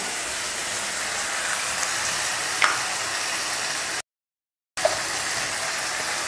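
Chopped tomatoes, garlic cloves and green chillies sizzling in a pan, a loud continuous hiss broken by one sudden brief gap of silence before resuming, with a couple of faint clinks.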